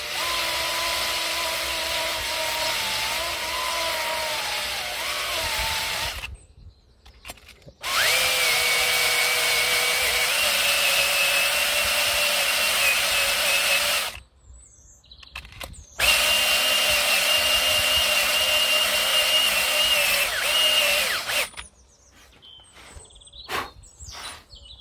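A power drill spinning a tool over a car wheel hub while rear brakes are replaced on an Audi A8/S8 D4: three long, loud whirring runs of steady pitch with short pauses between, close up, no talk.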